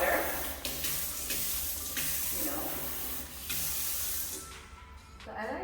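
Water runs from a bathroom sink faucet in an empty Fort Lauderdale apartment, a steady hissing spray with a brief voice over it, close and moderate.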